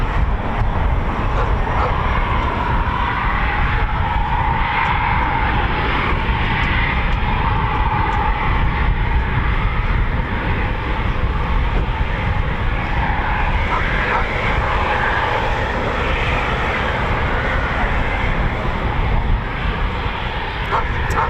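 A Spitfire, a wartime fighter that flew with 130 Squadron, makes an anniversary flypast. The engine is a loud, steady broadband roar that holds for the whole stretch with no break. A voice may sit faintly under the noise.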